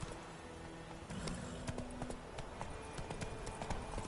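Horse hooves clip-clop at a gallop in a Witcher-style PS4 game, a steady drumming rhythm of muffled beats over a low ambient game soundtrack, fairly close and moderately loud.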